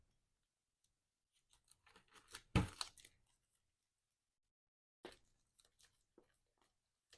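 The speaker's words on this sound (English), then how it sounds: "let's shuffle up the encounter deck here" Cards from a Marvel Champions encounter deck being shuffled, quiet papery riffles and snaps in two short bursts separated by near silence, faint and close.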